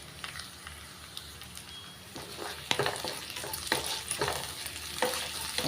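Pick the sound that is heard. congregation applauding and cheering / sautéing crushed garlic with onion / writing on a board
sautéing crushed garlic with onion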